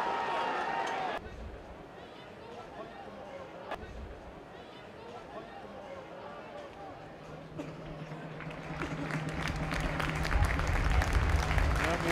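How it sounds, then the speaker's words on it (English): Crowd around a football ground at a Dagenham & Redbridge home match applauding a former player, a distant, soft ripple of clapping that swells toward the end beneath general crowd murmur. "the applause around the ground"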